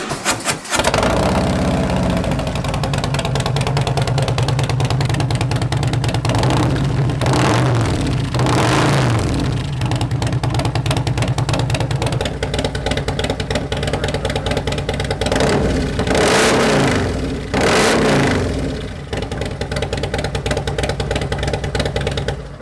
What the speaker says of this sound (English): we're gonna do an exhaust sound for the before and after